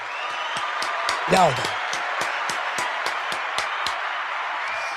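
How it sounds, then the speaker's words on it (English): A crowd in a room claps for Camden, New Jersey, with steady, evenly spaced hand claps over a continuous crowd murmur and a brief voice near the start. "Let's give Camden, New Jersey a round of applause"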